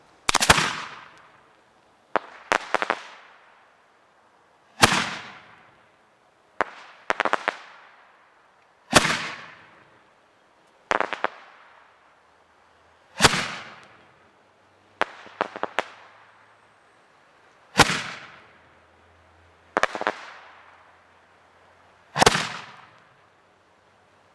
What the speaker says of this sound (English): Roman candle, fire!